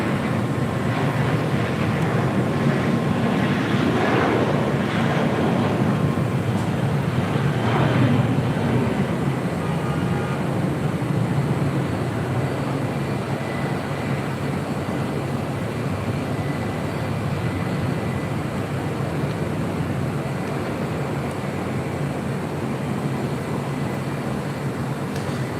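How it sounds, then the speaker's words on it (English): Spirit Airlines Airbus A320 airliner at LAX, a steady broad roar of jet engine noise filling the whole stretch, loudest early on and holding constant without voices. "That was Spirit Airlines Flight 816 heading to Kansas City in that A320."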